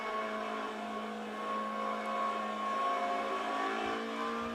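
Engine of a racing-sim car holding a steady, loud, buzzing drone in a video game, the pitch rising only slightly as it revs after a hard downshift from fifth to third gear.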